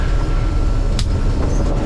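A harvester engine works during a corn harvest, producing a loud, steady low rumble with a brief higher mechanical hiss partway through.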